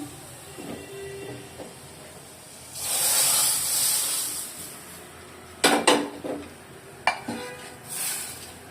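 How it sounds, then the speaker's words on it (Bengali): Hot tempering is poured into a pot of red lentil dal with hog plum and bursts into a loud hissing sizzle. Pot and spoon clatter follows, with clinks and sharp metallic knocks as the sizzle fades. "আমি এখন বাগারটা দিয়ে দিচ্ছি।"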